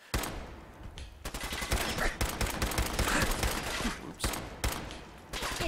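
Gunfire in Fallout 4, with rapid bursts of loud shots crackling almost continuously for several seconds, briefly pausing between volleys.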